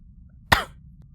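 A single short polite cough sounds once, brief and fairly close against quiet background.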